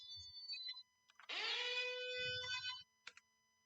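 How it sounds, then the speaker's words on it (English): An electronic security system alarm tone sounds alone: a bright, harmonically rich synthetic wail holding for about a second, framed by brief beeps and faint low thuds. "And we have a different alarm sound."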